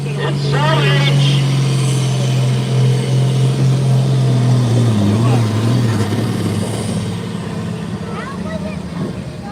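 A John Deere 4040 tractor labors loudly through a pull at a county fair truck and tractor pull, its steady engine drone holding near and strong throughout while an announcer talks over it.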